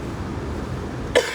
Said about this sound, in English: I'm still coughing like hell.